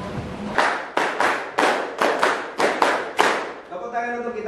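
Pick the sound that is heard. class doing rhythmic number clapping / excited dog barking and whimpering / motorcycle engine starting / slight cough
class doing rhythmic number clapping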